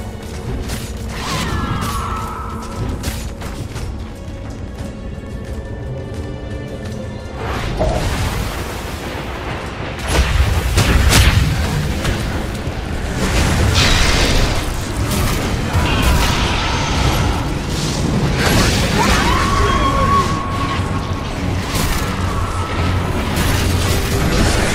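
A video-game battle as Radiant's bottom shrine falls: dense, continuous booms and explosive bursts with clattering impacts, loud and sustained throughout.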